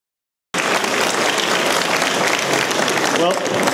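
A large audience bursts into sustained applause after a brief silence, dense steady clapping that stays loud and even throughout, greeting a businessman speaking to a crowd.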